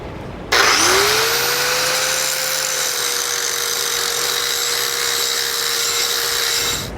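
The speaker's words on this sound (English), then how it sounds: "We're choosing to use an angle grinder, and we're going to grind that down just a little bit to get that clearance." An angle grinder grinds down metal for clearance while fitting a tow base plate on a 2021 Chevrolet Colorado, switching on abruptly and holding a loud, steady high whine for about six seconds, alone.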